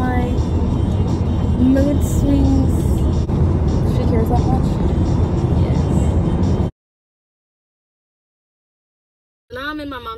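Road noise inside a moving car carries steadily for most of the clip, with talk over it, then cuts to near silence before a short burst of speech and engine sound at the end.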